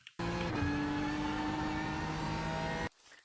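A BMW M4 GT3 race car engine drones steadily at Imola in the iRacing simulator, a continuous high-revving note under partial then full throttle, loud and close, cutting off abruptly near the end.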